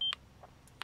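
A Casio Exilim EX-Z1050 digital camera from 2007 gives a short electronic button beep at the start, followed by a few faint soft clicks in near silence.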